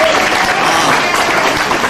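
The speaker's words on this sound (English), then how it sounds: "let's give them a big round of applause" Loud, dense applause from an audience at a Mindanao State University 60th anniversary gathering, a continuous close burst of many hands clapping at once.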